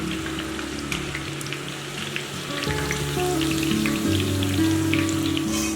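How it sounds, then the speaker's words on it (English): Steady crackling sizzle of chicken frying in hot oil until golden, with low hum and background tones underneath, continuous and fairly close. "Now I'm going to fry this until it's golden."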